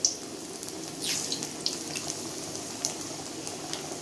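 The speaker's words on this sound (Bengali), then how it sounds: "আলুগুলো এক এক করে ছেড়ে দিচ্ছে।" Potatoes slipped one by one into very hot oil, with a steady watery sizzle throughout and a few sharp splashes and pops as pieces go in, close and fairly loud.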